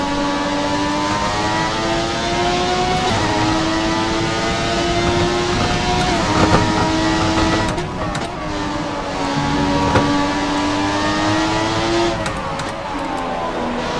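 A Formula 1 car in the F1 2017 video game at Russia, its engine revving high and steady, pitch climbing through gears and briefly dropping on shifts, loud and continuous throughout.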